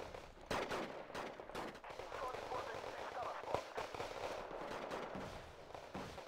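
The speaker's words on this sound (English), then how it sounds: "this is pretty withering machine gun fire coming in from the" Machine gun fire from M113 armored carriers in the Wargame Red Dragon strategy game, fighting around a town: dense, rapid bursts and cracks overlapping continuously, with a voice faintly mixed in underneath.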